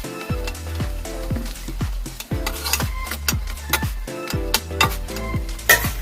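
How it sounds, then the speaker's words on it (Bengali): An aloo paratha fries in oil in a pan while being pressed down repeatedly, producing a close, rhythmic series of sizzling presses and scraping bursts with soft clinks, no voices. "এবার তেল দিয়ে ভেজে নেব।"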